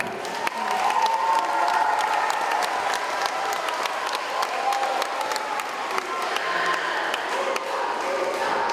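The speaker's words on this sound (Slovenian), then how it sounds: "Evo, dajmo en aplavz." School talent show crowd applauding, a thick sustained round of clapping mixed with some cheering, steady and fairly close throughout.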